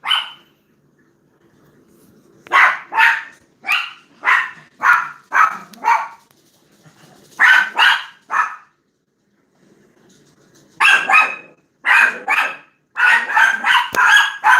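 Puppies barking in short, high yips arriving in quick bursts and clusters with brief quiet gaps between them, fairly close and clear, with no talk over them.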